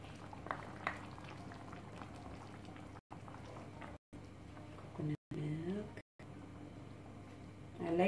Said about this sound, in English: So, now I'm adding the coconut milk.